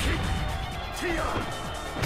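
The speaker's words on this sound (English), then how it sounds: "Smashes him face first into the granite." Ground grab in Dead or Alive 5 slamming a fighter face first into granite: impact crashes and thwacks amid busy game audio, with faint background voices.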